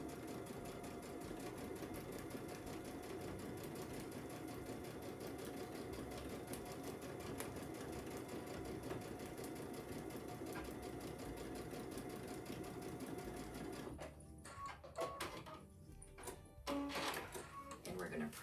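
A sewing machine runs steadily while stitching quilt seams for a flower-through-lattice panel, a continuous buzzing whir that stops near the end, followed by a few brief handling clicks.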